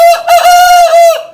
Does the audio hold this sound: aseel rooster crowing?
yes